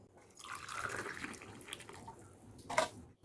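A boiled herbal cough drink made from a homemade herbal powder is strained, giving a soft, faint trickle of pouring liquid that swells over a few seconds and ends with a brief drip or splash, with no talking.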